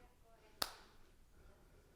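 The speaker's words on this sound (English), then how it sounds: "I'll clap and then go again." A single sharp hand clap lands near the start, close and crisp, during a yoga handstand drill session, with quiet room tone around it.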